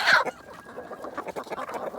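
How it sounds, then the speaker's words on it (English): A rooster clucks in short bursts with a sharp squawk at the start, fairly quiet against a soft outdoor background. "I have some errant roosters who sneak in"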